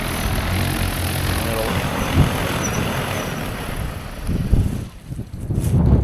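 An agricultural spray drone lands on a farm, its steady propeller whir loud and constant under outdoor wind, with a voice speaking over it near the end.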